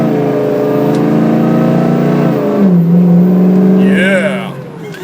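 A lifted 2005 Ford F250 diesel 4x4 truck revs its engine: a loud, close, steady rumble that climbs in pitch, holds a high drone, then eases off.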